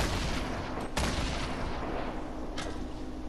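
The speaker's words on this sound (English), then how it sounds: "Nope, I'm getting shot." Gunfire in the Fortnite video game: a dense, steady wash of shots with two sharper cracks standing out, loud and close, with no talking.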